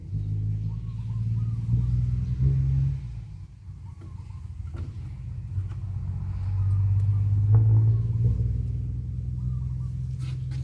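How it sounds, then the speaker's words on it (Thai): A car engine rumbles low and steady nearby, swelling as the vehicle passes, with a second surge toward the end. "เสียงรถมา"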